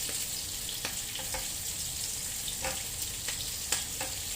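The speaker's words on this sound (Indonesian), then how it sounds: "goreng-goreng lagi ya guys." Onions sizzling in a pan with oil, a steady crackling fry broken by a few short scraping stirs, fairly quiet and close with no talk.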